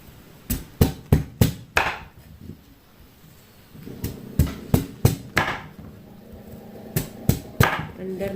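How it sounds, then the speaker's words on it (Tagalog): Sweet potato (camote) is sliced on a board in sharp, close knife chops, quick bursts of three or four cuts with short pauses between, and a voice murmurs in the background. "It's time to slice."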